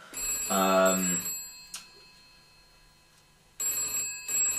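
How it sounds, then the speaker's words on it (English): A telephone bell rings in bursts, loud and close, with a pause between rings; a voice briefly talks under the first ring. "I think that's the phone."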